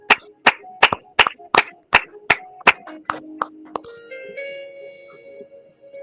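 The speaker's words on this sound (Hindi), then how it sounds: "कोई तो ताली बजा दो।" A run of distinct hand claps at a prayer service, about a dozen evenly spaced sharp slaps that thin out, followed by a sustained tonal chime or keyboard notes ringing on alone.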